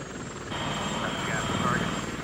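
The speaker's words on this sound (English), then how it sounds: "8 Apache helicopters laden with Hellfire missiles took off towards Iraq." Apache military helicopters taking off toward Iraq at night: a steady, loud rotor and turbine roar with a whining tone, heard under a narrating voice.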